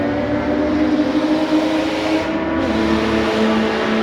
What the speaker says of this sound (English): That Cayman is stupid loud. It's just straight exhaust.